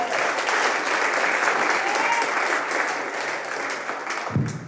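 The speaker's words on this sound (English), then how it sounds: "Round of applause for Madelein Smith, everybody." Comedy club audience applauding a stand-up comic, a steady dense wash of clapping that holds loud throughout and then cuts off sharply at the end.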